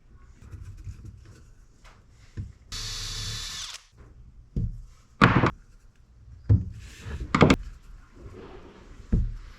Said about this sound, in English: using the self-centering drill bit